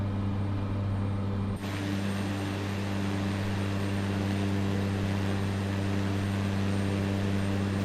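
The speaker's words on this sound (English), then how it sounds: "This is a very unstable aircraft." A Cessna Grand Caravan turboprop drones steadily in a flight simulator, a constant loud engine hum with strong low tonal bands and broadband rush that starts abruptly and holds alone throughout.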